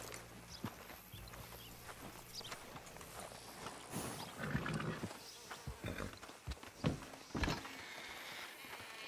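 Horse hooves in the video game Red Dead Redemption 2, soft irregular clip-clop steps slowing to a halt as the rider hitches up, set against faint ambient outdoor background with no speech.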